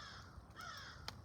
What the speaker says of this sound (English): that crow is right there